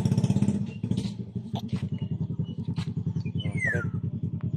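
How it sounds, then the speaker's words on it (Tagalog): A motorcycle's engine chugs nearby on a muddy path, a close, rhythmic, pulsing throb that holds steady throughout, with light clattering over it. "May brum-brum. Dali, tabi ka dito. May motor."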